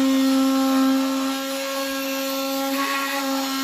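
A power tool whines steadily and close while cutting into a Honda CR-V RD1 bumper cover, a constant high-pitched drone with a faint grinding texture that eases slightly partway through.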